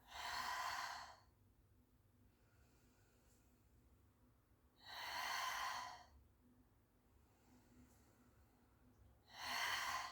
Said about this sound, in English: I'm going to breathe out and press down